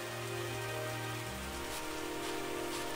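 Steady rain pours down on a surface, a dense even hiss that holds from start to finish with no voices over it.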